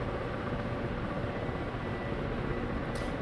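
A Ka-50 Black Shark attack helicopter in DCS Black Shark 2 flies with a steady, dense rotor and engine roar that holds evenly throughout, close and continuous with no pauses.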